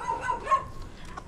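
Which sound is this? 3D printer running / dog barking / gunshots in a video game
dog barking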